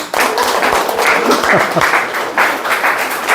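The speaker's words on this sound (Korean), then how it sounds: "이때 박수 치는 거예요." Audience clapping at a gender-equality lecture, lively and uneven, with bursts of claps rising and falling and a brief vocal murmur mixed in partway through.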